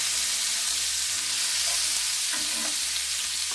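Steaks frying in a pan as rosemary-infused fat is spooned over them, a constant close sizzle with soft spattering and occasional spoon scrapes.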